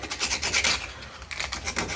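Close, rhythmic back-and-forth rasping strokes of sanding on a handmade screwdriver, with a brief pause midway and no voices.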